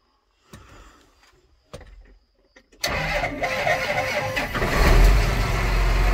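A 2013 John Deere 8260 tractor at an auction sits quietly through a few clicks and clunks, then its engine cranks and catches, building into a loud, steady diesel idle close by.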